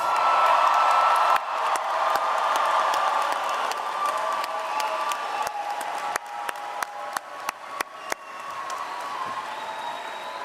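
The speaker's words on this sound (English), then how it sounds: "let's give the class of 2024 another round of applause." Another round of applause and cheering for the class of 2024 at a health professions and nursing commencement: dense crowd clapping with whoops, thinning into a few sharp, distinct claps near the end.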